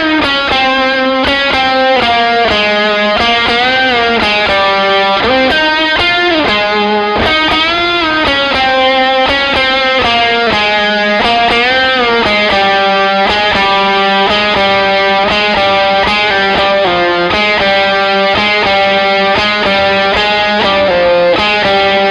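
Electric guitar solo from a song, played loud and close with a distorted tone, a continuous melodic line of bent and sustained notes with no talking.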